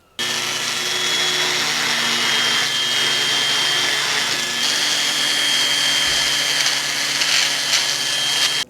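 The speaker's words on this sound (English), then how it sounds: "I'm going to go over the edges with a polishing mop." Polishing mop buffing the edges of a metal piece to a shine, a steady, loud motorized whir with a high whine that runs unbroken, close and alone.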